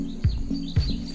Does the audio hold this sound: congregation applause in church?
no